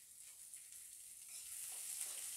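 Spice powder sizzles in hot oil while South Indian rasam, a tomato soup, is cooked; a faint, steady frying hiss that grows slightly louder toward the end.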